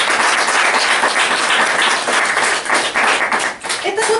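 An audience at a book launch claps in a loud, dense burst of applause that keeps going, with a few voices rising briefly near the end.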